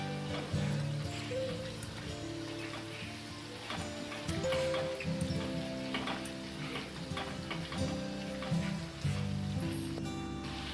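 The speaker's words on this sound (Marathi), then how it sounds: "आता आपण पलटून घेऊया मस्त अशी गोल्डन अशी सुद्धा आपल्याला तळून घ्यायची" Gola bhaji fritters crackle and sizzle in hot oil as they turn golden, a busy, close patter of bubbling with occasional sharper pops and the clink of a utensil now and then.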